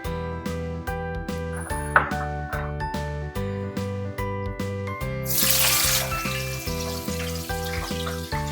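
Green chillies and curry leaves hit hot oil in a burst of loud sizzling that fades into a softer crackle, all partly masked by steady background music.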